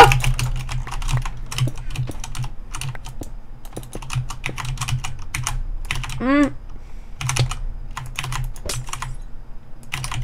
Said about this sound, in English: Jitter click.